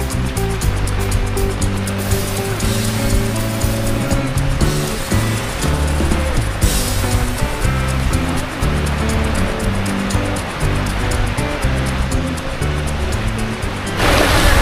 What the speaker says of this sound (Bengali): আর ঠিক সামনেই হচ্ছে সমুদ্র।